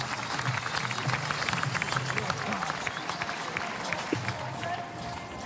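Large stadium crowd cheering and applauding a decathlete at an athletics meeting in Talence, a dense steady roar of clapping and voices throughout, with commentary talk running over it.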